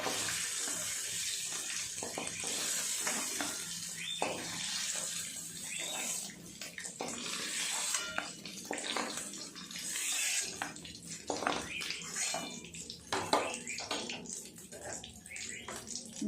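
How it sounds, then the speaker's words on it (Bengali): Paneer pieces shallow-frying lightly in a pan give off a constant bright sizzling hiss with scattered pops and crackles, close by, with quiet talking at times. "হালকা করে ভেজে নেব পনির"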